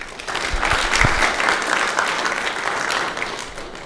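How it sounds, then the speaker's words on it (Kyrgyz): Audience applause from a gathered crowd, a dense, even burst of clapping that swells early and holds steady before easing slightly. "Азамат, кол чаап коебуз."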